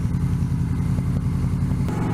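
Several Harley-Davidson motorcycles pass on the road, their engine rumble heard from another bike in a continuous low, steady drone with a little clatter, no distinct individual pass-bys standing out.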